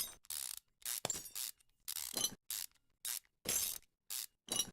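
Bolts being unscrewed from an engine manifold in Car Mechanic Simulator 2015, heard as a run of short, crisp ratcheting bursts that repeat roughly every half second with brief silent gaps between them and no talking.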